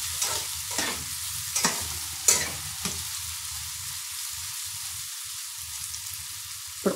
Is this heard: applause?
no